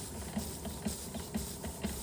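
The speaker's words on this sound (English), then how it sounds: "And you can hear it actually sounds like a steam engine." A restored Josef Falk 456/1S model steam engine with a working water pump runs steadily, giving a soft hiss with regular chuffing beats about twice per second.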